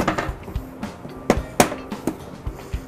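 Light taps on maple veneer pieces for a guitar top, a dozen or so sharp wooden knocks in an uneven rhythm, close and moderately loud in a quiet workshop.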